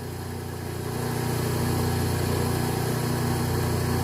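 A 1x30 belt sander runs with a steady, loud motor drone and a constant belt hum while a scissor blade is sharpened across it, with no talk over the sound.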